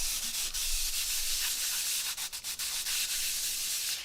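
An item is sanded by hand with steady back-and-forth rasping strokes, a close, dry scratching that is fairly quiet and continuous.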